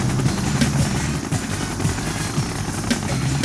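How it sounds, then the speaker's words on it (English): A Soviet siege chopper helicopter in the video game Yuri's Revenge gives a steady, loud, close rotor thrum with a constant whooshing roar that runs unbroken the whole time, with no voices over it. "Siege chopper checking in."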